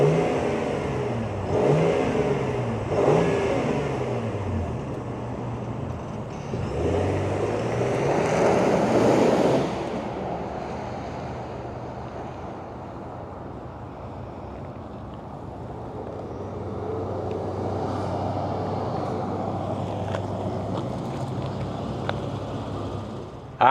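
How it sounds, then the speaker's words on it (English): A 2026 Infiniti QX80 Autograph with a twin-turbo V6 and 9-speed automatic starts and revs, a broad engine roar that swells in the first ten seconds and then settles into a steady, quieter hum, with no voices. "why don't we fire up this V6 twin turbo and see this QX80 zoom"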